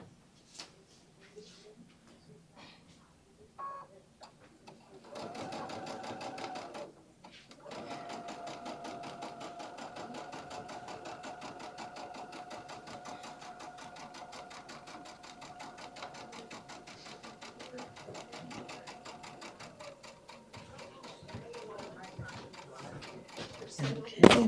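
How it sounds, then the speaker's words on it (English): An embroidery sewing machine stitches along a seam. After a few seconds of light handling noise, a steady mechanical whir runs continuously for about fifteen seconds at a moderate, even pace, then slows and stops. "we're just going to sew up to where the seam is"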